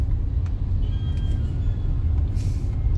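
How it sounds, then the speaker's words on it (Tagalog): Road traffic on EDSA makes a steady, dense low rumble of engines with faint high hisses and squeals from vehicles passing, continuous throughout and with no talking. "Traffic ang EDSA."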